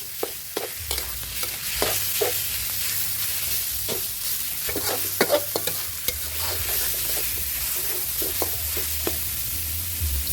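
Minced pork stir-fried with dried chili and garlic in a hot pan, a steady sizzle with repeated scraping and clattering stirring strokes throughout, close and fairly loud with no talking.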